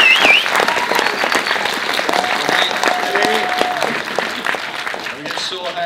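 An audience at an awards ceremony claps loudly and steadily, a thick burst of applause that slowly thins toward the end, with faint voices under it.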